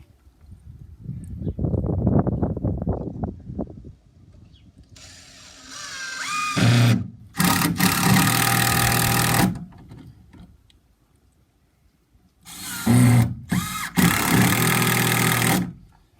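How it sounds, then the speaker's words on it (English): Power drill driving and countersinking screws into wood in a workshop, with two separate loud bursts of whirring and grinding, each a few seconds long, separated by quieter handling noise. "I'm countersinking them a little over 1/4 of an inch each"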